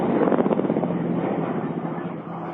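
A Black Shark attack helicopter in an early-1990s feature film, a low, pulsing rotor drone with a heavy throbbing beat that eases slightly toward the end.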